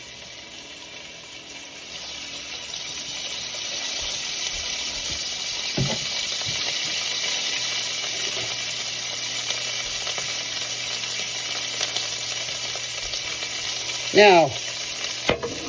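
Onions hitting hot oil in a pot for pot roast, a soft, steady sizzle and frying hiss with a couple of brief clanks and scrapes near the end, a voice speaking briefly.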